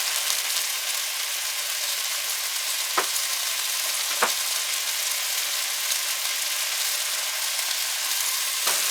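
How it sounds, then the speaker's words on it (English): Fat sizzles loudly as meat fries in a pan, a steady, close crackling hiss broken by a couple of brief clicks from the pan. "But you can hear that sizzling up right now, all that fat."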